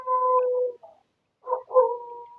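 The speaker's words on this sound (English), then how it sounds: "That's a dog." A dog gives short vocal bursts, one drawn-out sound, a brief pause, then two more close together, fairly clear and nearby with no talk over them.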